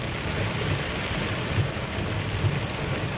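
Steady heavy rain drums on a car during a thunderstorm, a dense continuous hiss with faint low rumbles of thunder underneath.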